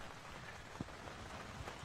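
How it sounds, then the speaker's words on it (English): Heavy rain belting down at a Super50 cricket match, a dense steady hiss of drops drumming on surfaces with a few louder splats, continuous throughout. "rain is now belting down"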